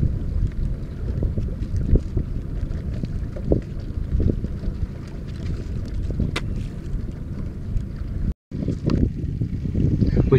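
Strong wind on a lake roars across the microphone in a continuous low buffeting rush during catfish jugging from a boat, loud and close, with a brief dropout near the end.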